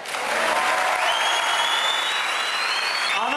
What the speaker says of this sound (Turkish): Bu alkışlar bu ha